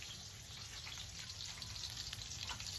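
Hotdogs frying in a pan at a team-building cookout in Ajuy, Iloilo: a steady, faint crackling sizzle of hot oil with scattered pops, continuous and close.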